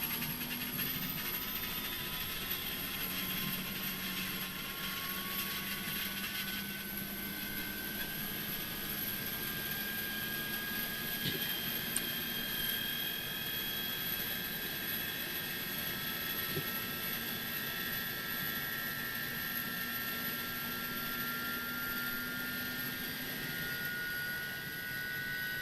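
An iniBuilds A300 airliner engine spooling up during start in Microsoft Flight Simulator, a steady whining drone with slowly rising tones held throughout, no voices.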